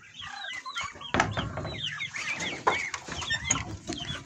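Several chickens clucking and squawking close by, busy overlapping calls with a few louder bursts, no talking.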